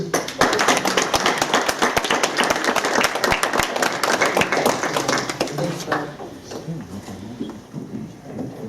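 Applause from the audience at a city council meeting, a dense patter of many hands clapping steadily for about six seconds before tapering off into quieter room noise and faint murmuring.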